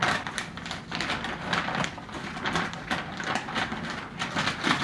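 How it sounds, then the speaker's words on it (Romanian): An MSI Z170A motherboard slid back into its plastic anti-static bag, giving a steady run of close crinkling and rustling with crisp ticks throughout. "Imediat să o punem în punguță la loc"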